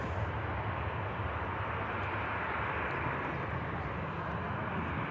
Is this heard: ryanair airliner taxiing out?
yes